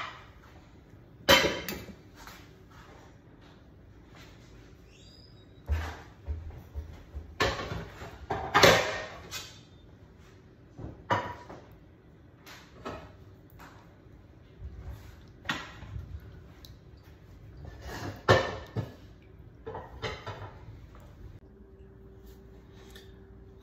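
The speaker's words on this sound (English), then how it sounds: "I'm gonna get a skillet ready over here." A skillet and pans are set out and handled in a home kitchen, giving scattered metallic clanks and knocks with quiet gaps between them, close but moderate in level.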